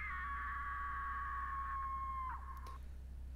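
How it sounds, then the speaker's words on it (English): A screaming voice rises from the basement in a horror video game, a sustained high wail holding steady for over two seconds, then breaking off abruptly, with a faint low hum beneath. "It sounds like someone is screaming in the basement."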